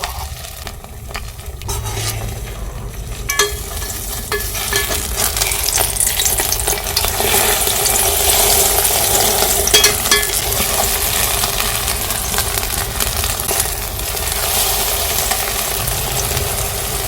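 Eggs frying in oil in a pot for a rice and egg stew: a steady, loud hiss and sizzle that builds after a few seconds and holds, with light stirring noises and no speech.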